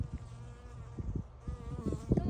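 Honeybees buzz around flowering chives in a backyard garden, a faint, close, wavering drone carrying on steadily over light outdoor background noise.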